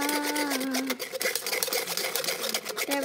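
A blender or mixer whirs steadily while making strawberry lemonade, a continuous buzzing motor drone with a pitch drop partway through, close and fairly loud, with no talking over it.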